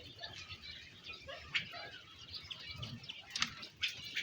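Miniature king quails flap their wings inside a coop, giving several short, soft flutters spread across a low rustling background with faint chirps.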